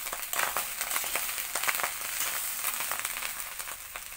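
Rice stir-fried in a pan with pepper, soy sauce and ajinomoto makes a continuous close crackling sizzle with scraping, stirring strokes throughout.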